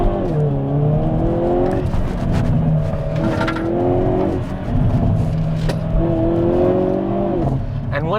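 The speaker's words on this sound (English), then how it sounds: "I want to try launch control." Hyundai Kona N pulling away under launch control, a loud close engine revving in repeated rising sweeps with brief gaps between gear changes, and a voice talking over part of it.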